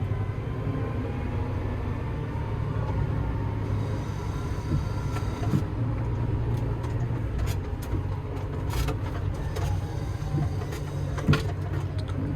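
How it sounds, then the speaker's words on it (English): A car with an automatic gearbox and a kick-down button is driven while it comes down through the gears, producing a steady low engine and road drone with small ticks and clicks over it and no talking. "Coming down through the gears."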